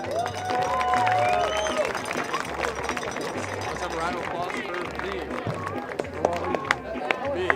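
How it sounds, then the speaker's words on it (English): Crowd applause and cheering at the Passaic County Girls Soccer Tournament final ceremony for runner-up Depaul Spartans, a steady wash of clapping with scattered voices and chatter, along with bursts of low thumping noise throughout. "let's have a round of applause for the runner-up in this year's Passaic County Girls Soccer Tournament, the Depaul Spartans."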